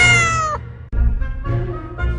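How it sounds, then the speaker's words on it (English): A cat meows loudly and close, giving several drawn-out, wavering cries in a row. "So you're saying I can ask this cat any question?"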